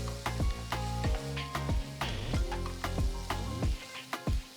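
Onions, ginger and green chillies sizzling steadily in a hot pan, with repeated clinks and scrapes of a spatula stirring throughout.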